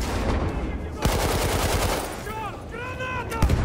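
An MG 08/18 machine gun fires loud, rapid bursts of close shots in a video game on the Tsaritsyn map, the rattle pausing while a voice shouts before more shots crack near the end.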